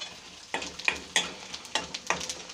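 Urad dal and cumin seeds land in hot oil for a tempering, giving a quiet bed of sizzle with about six sharp spitting crackles and pops spaced across a couple of seconds.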